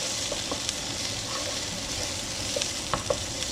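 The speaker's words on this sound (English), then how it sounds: "we're just going to stir this and cook it 30 seconds to a minute" Tomato paste sizzles and fries in a pan while being stirred, a steady close crackling hiss with occasional scraping taps from the utensil, no one speaking.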